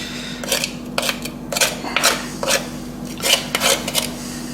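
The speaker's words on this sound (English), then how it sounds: "What I'm going to do now is I'm just going to scrape the sugar off here." A metal spoon scraping melted sugar off the bottom of a pan, a steady run of rough, rasping strokes, about eight in a row, loud and close with no talk.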